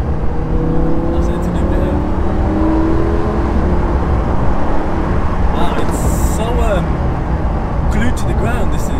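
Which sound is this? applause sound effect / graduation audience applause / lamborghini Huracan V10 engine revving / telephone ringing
lamborghini Huracan V10 engine revving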